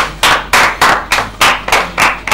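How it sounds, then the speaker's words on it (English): Clapping from a classroom of pupils, about eight sharp, evenly spaced rounds of hands struck together in quick rhythm, loud and close, with no talk over it. "Clap for her."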